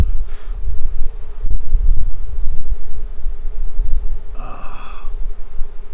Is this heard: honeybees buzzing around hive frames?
yes